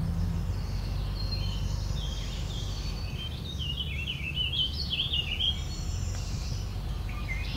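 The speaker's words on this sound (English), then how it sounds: "Picking up orchard oriole and warbling vireo." Orchard oriole and warbling vireo sing outdoors, their faint, warbled phrases running continuously and blending together at a distance over a steady low background noise.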